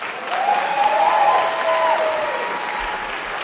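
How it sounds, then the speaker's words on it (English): A brief round of audience applause at a live ceremony, steady and fairly loud throughout, with a faint tonal sound rising and falling briefly over the clapping. "One more round of applause for them, please."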